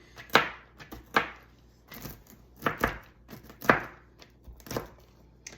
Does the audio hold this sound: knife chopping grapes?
yes